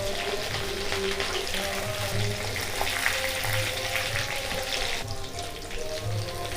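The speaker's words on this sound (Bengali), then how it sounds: "ভাসা তেলে যদি ভাজো তাহলে ভাজাটা ভালো হবে।" Prawn pakora deep-frying in plenty of oil gives a steady, dense bubbling hiss that continues throughout, with a low hum underneath.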